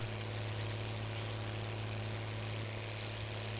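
A Case tractor engine in Farming Simulator 19 drones at a steady low idle-like hum, continuous and close with no variation, alone without talk.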